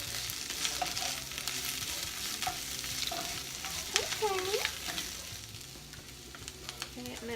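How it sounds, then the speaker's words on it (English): Lemon kale pasta seasoned with lemon pepper, stirred in a sizzling pan: a continuous close crackle with scraping utensil strokes and a few squeaky slides, no talk. "Stir all this up."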